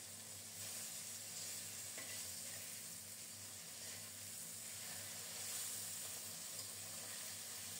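Pabda fish frying in oil, a low, even sizzle that holds steady and faint at close range, with no talk.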